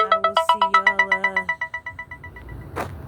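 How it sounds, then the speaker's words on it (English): A phone ringtone from a spam risk call plays as a loud, rhythmic run of rapid repeated electronic beeps that fades out after about two seconds, followed by a brief rustle. "I don't know why I keep getting"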